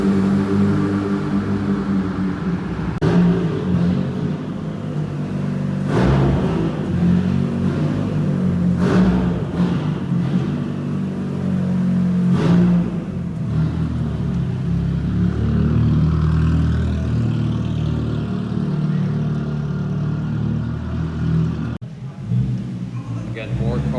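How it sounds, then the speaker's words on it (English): A Porsche 911 idles and pulls away from an underground car meet in Japan, its engine a steady low rumble that swells and fades, with several sharp knocks and someone talking over it. "Seems like this 911 is also leaving."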